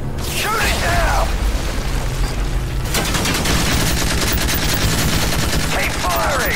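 Dense, sustained automatic gunfire from the Call of Duty Modern Warfare 3 mission Dust to Dust, rapid bursts rattling continuously with explosive booms, while voices shout over the battle.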